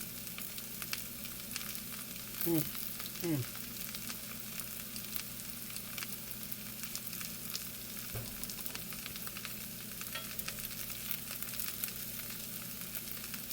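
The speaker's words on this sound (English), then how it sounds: "Come on, fry, baby. Fry, baby, fry." Sliced yellow squash frying in a pan, a steady close sizzle and crackle throughout, with a couple of brief scraping stirs.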